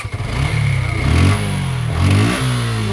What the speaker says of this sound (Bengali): তোমার বাইকের স্টার্ট দিয়ে